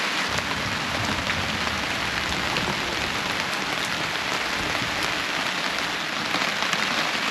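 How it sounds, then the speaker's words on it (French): Steady rain drumming on a sheet-metal roof at a campsite, a dense continuous patter with constant even loudness and no voices. "La pluie qui tombe sur un toit de tôle."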